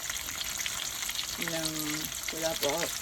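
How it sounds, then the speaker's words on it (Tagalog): Marinated chicken legs fry in hot oil with a steady, dense sizzle throughout, while a couple of short tonal clinks or squeaks rise briefly over the crackle near the end. "Prito po tayo ng fried chicken."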